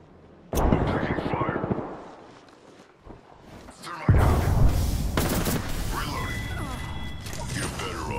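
Heavy gunfire erupts in a match of the video game Apex Legends, with a sudden loud burst of shots, a lull, then dense sustained firing and mechanical clatter as players talk.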